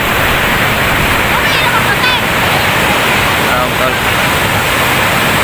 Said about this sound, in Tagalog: Grabe yung alon, lakas